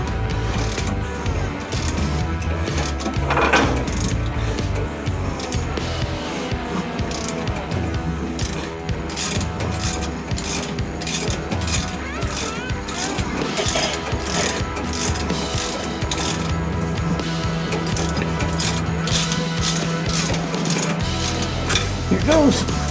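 A puller tool cranked by hand to pull a pulley off an LS engine, heard as close, irregular clicking and grinding mechanical strain with scattered metallic knocks throughout.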